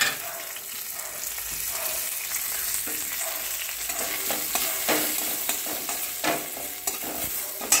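Bay leaf, whole cumin, whole garam masala and chilli frying in hot oil in a kadai, a bright continuous sizzle with crackling pops and a few stirring clinks, up close, no talk.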